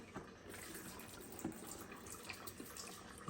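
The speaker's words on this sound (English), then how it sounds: "So we're gonna dump some IPA in there." Isopropyl alcohol pours into a resin 3D-printing wash station that is dirty with cured resin. The liquid gives a faint, steady splashing trickle with small sloshes, heard alone for about three seconds.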